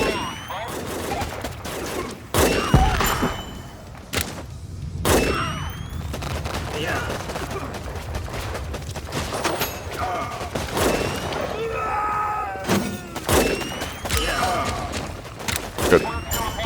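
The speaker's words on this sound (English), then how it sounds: "I better call in some airstrikes" Gunfire and airstrikes in the WarPips war strategy game rattle continuously, with dense rapid shots and sharp cracks over a rumbling bed and intermittent heavy thumps. No one speaks.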